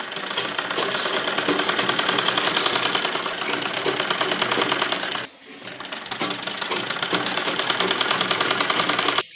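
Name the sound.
sewing machine stitching fabric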